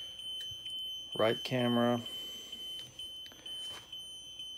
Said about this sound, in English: It's beeping now because we got the legs down